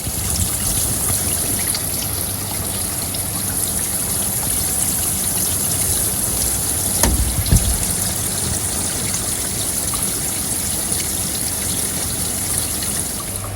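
Water trickles continuously through a Bakki shower pond filter packed with ceramic media, a steady close splashing hiss with a brief louder gush partway through.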